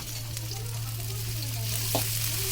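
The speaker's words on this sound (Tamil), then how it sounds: "வெங்காயம் போட்டு வதக்கணும்." Onions sautéing in hot oil in a pan for semiya upma give a steady close-up sizzle and crackle, with a faint low hum underneath and a brief stirring scrape near the end.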